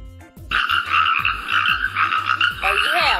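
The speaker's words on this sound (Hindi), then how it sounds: "और यह आवाज है मेंढक की।" A frog croaks in a steady rhythm of repeated low, rattling calls, loud and close, with no other sound around it.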